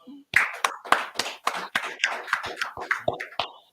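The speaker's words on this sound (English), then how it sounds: "Clap it up" Rhythmic hand clapping at a scripture class gathering, about a dozen sharp claps in a steady pulse, close and fairly loud with no talk over it.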